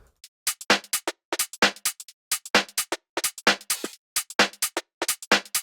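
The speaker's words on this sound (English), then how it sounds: "which is this typical UK garage style loop" A UK garage style drum top loop from the Omnia pack plays alone, crisp snappy hits and bright hi-hats in a skippy, syncopated shuffle repeating across the clip.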